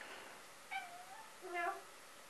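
A cat meows twice, softly and somewhat distant, with two short rising-falling calls about a second apart over a faint background hiss.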